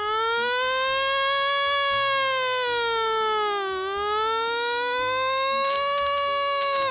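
A voice imitates an ambulance siren, one long loud wavering wail that dips and rises again, held alone for several seconds.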